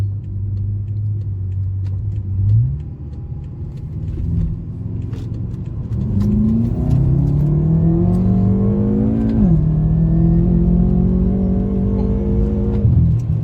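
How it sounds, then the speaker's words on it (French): A BMW M5 F10 accelerates hard, its engine note climbing in loud repeated revving sweeps that rise, drop at a gear change and rise again, close and steady with no talk over it. "je vous refais une dernière accel sur cette caméra là"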